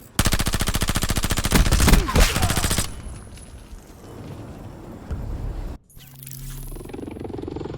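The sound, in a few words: gunfire in Call of Duty Black Ops video game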